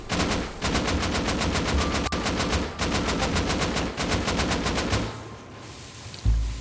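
Rapid explosive-ammo gunfire in a Rust raid on a loot room, a sustained loud burst of evenly spaced automatic shots that stops near the end, followed by a brief thud.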